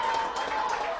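Home supporters at a City Football League President Cup semi-final between Saunders SC and Java Lane SC keep up steady cheering and clapping, a dense continuous crowd roar for one second.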